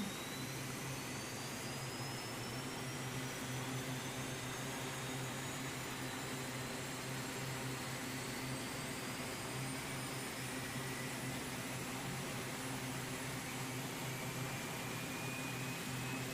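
Steady, even engine drone in Tower Unite holds at a constant pitch, with a faint rising whine sweeping across it; quiet and unbroken, with no talk.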